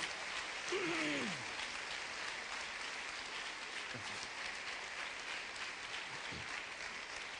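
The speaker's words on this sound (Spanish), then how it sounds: "Dele esa ofrenda de palmas fuerte, fuerte a Dios" A church congregation gives loud clapping as an offering of praise to God, a faint, steady wash of applause heard from a distance, with a brief vocal sound near the start.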